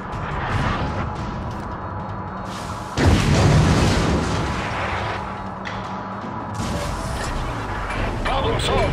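Main battery guns of the battleship Fuso firing in World of Warships: heavy booming salvos with a sharp blast near three seconds over a constant rumbling battle din, with game voice lines mixed in.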